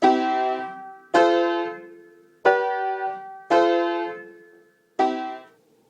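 Five strummed chords of a 1-4-5 progression ring out one after another at roughly one-second intervals, each struck firmly and left to decay, with no talking.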